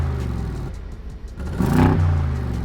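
A Mercedes G-Wagen SUV engine idles with a deep rumble, then briefly revs up near the end in a short, rising roar heard close by with no talking.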